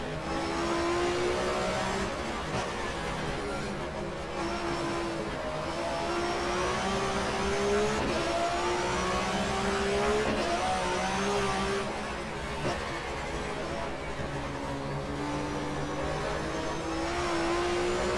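German touring cars racing in GTR2 at Zandvoort, a steady roar of engines revving and changing pitch through the gears, several cars close together and loud, without talk.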